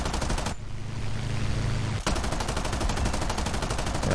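Aircraft machine guns firing in a video game, from an XP-50 fighter plane: two rapid bursts of dense, rattling gunfire separated by a brief break, loud and close over steady engine drone.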